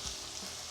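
A short burst of Caribbean food frying in hot oil, a steady close hiss of sizzling with a light knock at the start and no voices.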